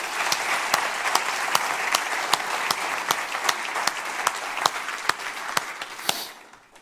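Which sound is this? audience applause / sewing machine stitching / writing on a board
audience applause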